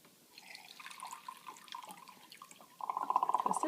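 Water running and trickling from the spigot of a WaterBrick water storage container, faint at first, then a louder steady close stream near the end, with no talking.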